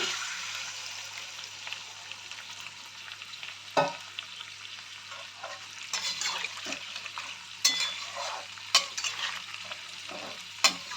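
Frying masala for egg biryani gravy sizzles and crackles steadily, with scattered louder pops and stirring clinks as hot water is added to the pan.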